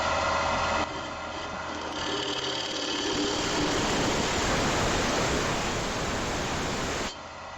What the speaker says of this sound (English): I'm just going to use a little 3/8 spindle gouge